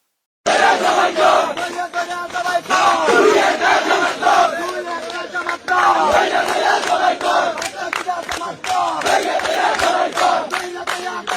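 A large, loud crowd chants Awami League political slogans in Bangladesh after an election, with rhythmic surging shouts that carry on almost without a break and swell and dip together.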